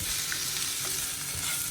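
Okra and potatoes frying in a pan for a Bengali home meal, a steady soft sizzle with light stirring scrapes, close and fairly quiet, no talk.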